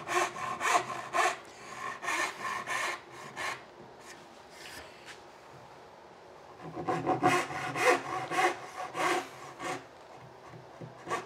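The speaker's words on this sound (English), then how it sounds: "I find it a lot easier to take care of that with a hand saw" A hand saw cuts through wood while trimming a breadboard end on a tabletop, with quick rasping back-and-forth strokes in two bursts and a short pause between them, close and clear with no talking.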